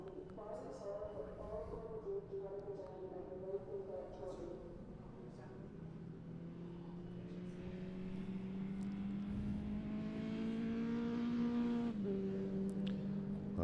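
A race car at an ICCR 2024 round climbs uphill on the circuit, its engine drone rising in pitch and growing louder as it accelerates, with a commentator talking over it throughout.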